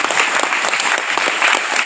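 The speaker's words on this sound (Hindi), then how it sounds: "ताली बजाइए।" Audience applause at a Christian preaching event, a dense, steady wash of many hands clapping together, loud and close, filling the whole stretch with no talk over it.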